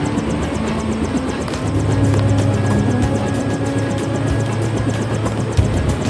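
Helicopter engine and rotor in the video game Deus Ex Revision, a steady loud mechanical drone with a low rumbling hum and fast rhythmic rotor chop throughout, no speech.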